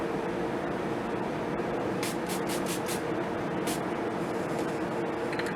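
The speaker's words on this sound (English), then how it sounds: "This is the Ciate London Watermelon Burst Setting Spray." Ciate London Watermelon Burst setting spray misted in several quick bursts, a rapid run of short hisses followed by one more spritz, close up over a steady low room hum.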